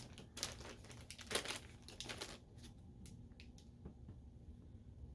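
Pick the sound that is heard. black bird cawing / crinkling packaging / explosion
crinkling packaging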